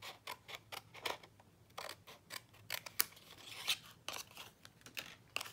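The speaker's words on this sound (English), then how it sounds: "I'm going to cut it in half here where the points are." Scissors snip through a paper nested die-cut frame, the largest from a large set, cutting it in half at the points for a handmade card; a quick series of close, crisp cuts with small rustling pauses between, no talking.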